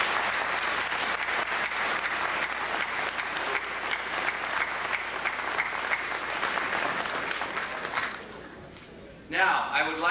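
A school Veterans Day audience claps steadily and loudly for about eight seconds, the applause dropping away near the end before a brief burst of voices.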